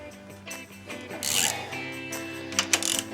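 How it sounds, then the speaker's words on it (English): A ratchet wrench loosens engine cylinder head bolts on a pulling truck with a leaking head gasket, making close, quick clicking and rasping bursts with short pauses between strokes. "So we're going to go ahead and pull these 4 head bolts out"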